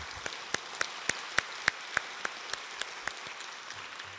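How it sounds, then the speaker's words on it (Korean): A church congregation at a Korean early-morning prayer service claps in a slow, unison rhythm. Evenly spaced sharp claps ring out about every quarter second and fade toward the end. "우리 하나님께 영광의 박수 먼저 올려드렸으면 좋겠습니다"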